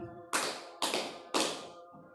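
A group of people claps in unison exactly three times, each clap a sharp, loud, evenly spaced burst with a short ringing tail, against a quiet room.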